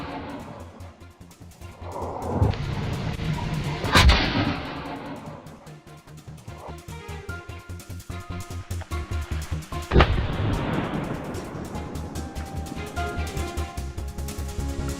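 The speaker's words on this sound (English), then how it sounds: "we do not always successfully kill a wild boar with just one shot" Rifle gunshots during a wild boar hunt in cold weather, two sharp distant cracks several seconds apart, each followed by a rolling echo, over windy outdoor rumble and engine-like noise.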